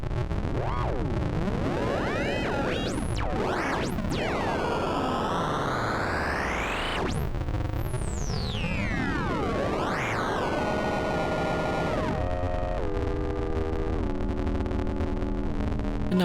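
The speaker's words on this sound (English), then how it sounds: "Real great computer glitchy matrix sounds here." Mr. Wavey synth module by Blue Lantern Modules producing glitchy computer-like matrix tones: loud, continuous sweeping and warping pitches with sudden jumps, rising and falling glides, and stepped digital textures throughout.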